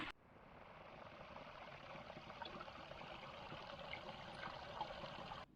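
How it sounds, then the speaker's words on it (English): Spring water flowing steadily from its source beside the Appalachian Trail at Gooch Gap in winter, a soft continuous trickle and rush heard close and alone without talk. "You can see it coming out of the spring right there, and it's a nice flow."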